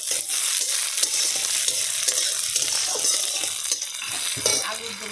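Onion and green chilli fry loudly in a pan, a bright, dense sizzle broken by repeated scraping stirs and light clinks of a spatula against the metal, close to the listener.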